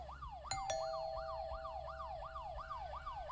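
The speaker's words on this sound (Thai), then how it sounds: "รอเสียงรถตำรวจ" A wailing police siren in the video game Fear to Fathom: Home Alone sweeps up and down repeatedly, loud and steady, with a couple of sharp tonal bleeps near the start.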